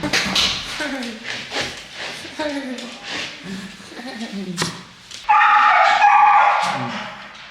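A dog yelps, whimpers and barks in rapid, pained bursts while its claws are trimmed, close and loud, as people talk over and around it.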